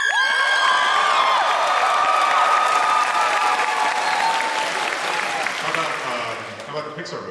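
A convention panel audience at WonderCon 2009 breaks into loud, sustained applause with cheers and whoops throughout, then fades slightly near the end.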